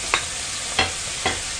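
Minced garlic, ginger and scallion stir-fried with ground meat in a wok, a steady close sizzle broken by three sharp scrape-and-toss bursts about half a second apart.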